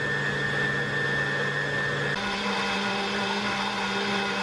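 A blender running in soup mode purées a velouté with a steady whirring motor hum, shifting pitch slightly midway and running loud and continuous throughout.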